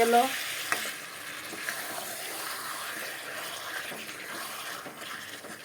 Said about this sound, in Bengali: বন্ধুরা দেখো চিকেনের থেকে তেল ছাড়তে শুরু করে দিয়েছে আমার চিকেনটা কষানো হয়ে